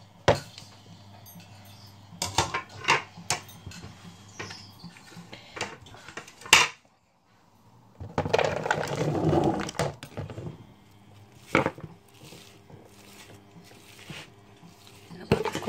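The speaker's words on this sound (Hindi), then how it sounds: "इसको फोक की मदद से मिक्स कर लें अच्छे तरीके से।" A fork mixes mashed potato with spices and chili in a bowl for potato chapati, making scattered clinks, taps and scraping against the dish, with a longer stretch of stirring in the middle.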